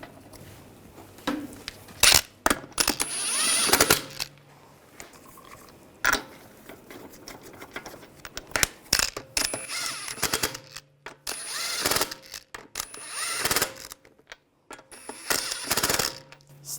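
Lug bolts being threaded by hand onto a wheel hub of a 2009-2017 Volkswagen Tiguan during a front brake job: close, intermittent metallic clicks and scraping bursts separated by short pauses.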